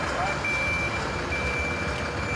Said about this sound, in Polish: Powrót samochodów strażackich z akcji.